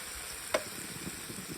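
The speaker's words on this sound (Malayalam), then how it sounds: "ഇനി നമുക്ക് ചിക്കൻ പൊരിക്കാം." Steady soft sizzle of chicken frying in hot oil, with one sharp clink of a utensil against the pan partway through.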